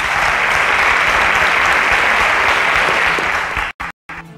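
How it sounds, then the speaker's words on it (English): Audience applause for the sponsor Interswitch at the InterswitchSPAK STEM education event in Nigeria, a loud, dense, sustained burst of many hands clapping that cuts off abruptly near the end. "A round of applause for our sponsors"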